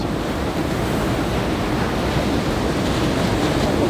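Ocean surf at Hiratsuka beach on the Shonan coast. A loud, continuous roar of breaking waves mixes with gusting wind noise, steady from start to end, with no voices.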